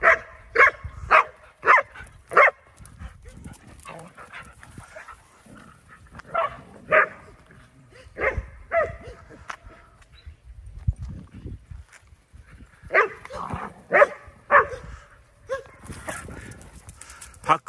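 A dog at a dog-training school barks in bursts of several sharp woofs on a very cold December morning, pausing between volleys, with occasional voices heard between the barks.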